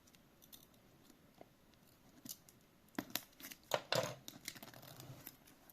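Opening a POCO F8 Ultra phone box brings close rustling, tearing of packaging and crinkling plastic, faint at first and then a denser burst of crackles and scrapes, with no speech.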